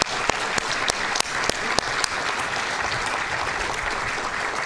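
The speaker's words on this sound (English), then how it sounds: "Another round of applause for Razie." A room full of people at a board of trustees meeting claps steadily, dense and even, with a few sharper individual claps standing out near the start.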